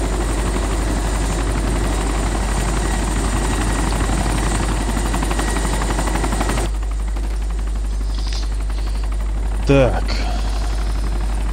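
Helicopter taking off in the video game DayZ Epoch, a loud steady rotor and engine drone that fills most of the clip before dropping away, with a brief spoken word and a short electronic sound near the end.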